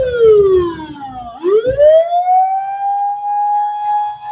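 Ambulance siren in road traffic, loud and close, a falling wail that swoops back upward and then holds a long, steady high tone.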